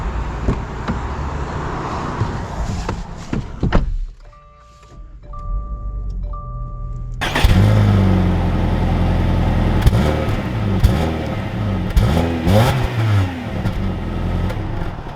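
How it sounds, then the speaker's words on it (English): A 2021 Subaru Impreza Sport hatchback pulling away, first a quiet settling interior hum, then a chime pattern before the engine note swells and revs loud and close as it drives off. "let's take this Impreza out and see how it drives."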